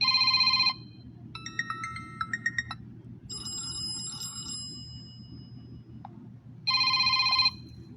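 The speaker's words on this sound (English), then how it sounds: "Oh no, that's a ringing notification." A phone ringtone plays a bright, repeating electronic melody in two bursts at start and end, with a softer chime pattern between, over a steady low hum.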